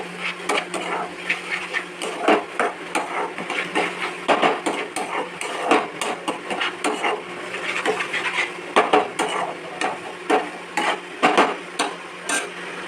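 Spice paste with poppy seed, salt, turmeric and garlic being stir-fried in a pan, heard as a steady run of close scraping, tapping and clinking strokes from a spatula against the pan.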